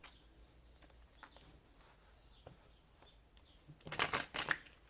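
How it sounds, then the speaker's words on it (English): A deck of tarot cards is shuffled near the end in a brief, crisp riffle of rapid papery flutters, after quiet handling noises. "I'm going to go ahead and shuffle this a little bit more one more time since I'm using the same deck"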